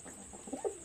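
A pigeon's soft coo rises briefly twice, low and close, over a faint steady background hiss.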